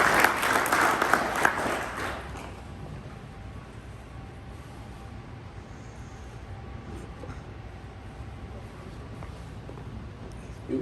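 Applause from a graduation ceremony audience, a short burst of clapping for about two seconds that quickly fades into quiet room ambience.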